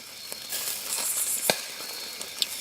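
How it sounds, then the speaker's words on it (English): Chicken sizzling on a hot wood-fired parrilla grill, a steady hiss broken by sharp pops and crackles. "You can hear the chicken sizzling away."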